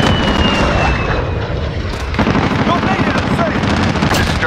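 Sustained PKM machine gun fire in a Call of Duty: Modern Warfare Domination match, loud rapid bursts layered with distant explosions and other battlefield gunfire throughout.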